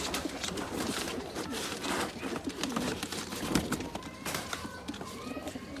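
Pigeons in a loft, including one with light-coloured eyes and a black-tipped beak, coo softly and continuously amid a busy, rustling background of flapping and scuffling.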